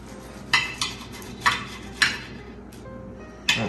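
A knife slicing through a puff pastry sausage roll, giving sharp, crisp crunches, about five or six irregular cuts spaced across a few seconds, close and clear over a quiet background.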